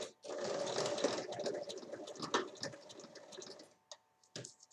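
A sewing machine stitches half a centimetre from the edge of fabric for a visor, running as a steady close mechanical whir for about four seconds, then stopping with a few short bursts.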